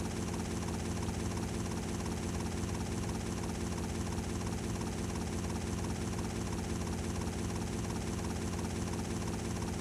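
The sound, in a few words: aircraft flying in video game GTA Vice City Stories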